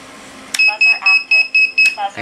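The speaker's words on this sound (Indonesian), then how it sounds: "buzzer udah nyala" Buzzer on a 4–5 inch FPV racing drone sounding a run of six short, loud, regular beeps, with a faint steady hum underneath.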